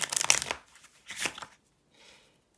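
Playing cards in a deck are shuffled by hand in two quick riffling bursts, close and crisp, with a faint soft rustle afterward.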